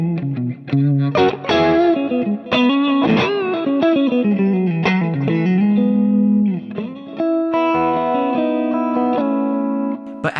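Clean electric guitar run through a chorus effect on a modeler, single notes and double stops ringing out with a shimmering, slightly wavering tone, played alone and up close.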